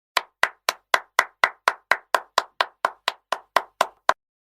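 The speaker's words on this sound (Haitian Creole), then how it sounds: "Applaudissez, applaudissez." Steady clapping at a comedy show's party gathering: about sixteen crisp, evenly spaced claps in a brisk regular rhythm, fairly close and alone with no voices, stopping abruptly.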